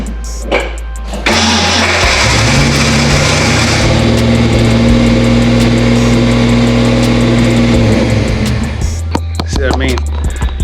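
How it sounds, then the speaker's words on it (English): A car's starter cranks with a harsh grinding whir for several seconds before the engine catches, loud and close, framed by short clicks and knocks. "It's grinding or just basically hanging up. Whenever I start the car"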